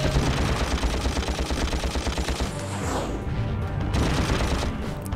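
Gunfire in Ratchet and Clank on PS2: a loud rapid rhythmic stream of blasts with thumping low pulses, continuous throughout with a slight dip midway.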